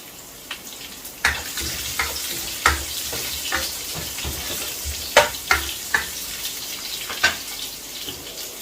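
Four to five dry red chillies fry in a hot wok with carrot for Schezwan chicken, a loud continuous sizzle punctuated by repeated sharp spatula scrapes and knocks.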